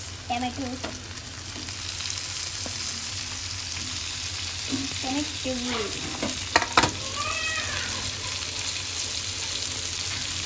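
Tomatoes fry in a pan over a lowered flame with a continuous close sizzle and stirring scrapes, and a few short chirpy sounds mid-way.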